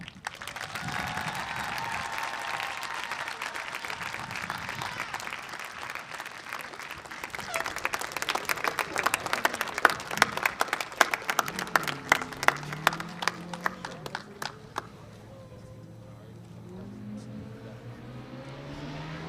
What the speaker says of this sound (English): would you please join me in celebrating Dr. Hanson with one more round of applause